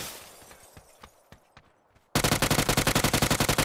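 Automatic gunfire in PUBG Battlegrounds: a few faint distant shots, then a loud close burst of rapid, evenly spaced rounds firing nonstop to the end.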